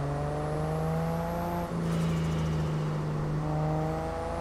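Turbocharged drift car engine on a USDrift track, a steady loud droning tone with a brief dip and rise in revs midway, sustained and close, with no talk.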